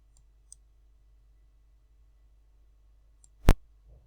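A single sharp mouse click in a quiet room, with a faint earlier tick and a soft rustle after; no talking.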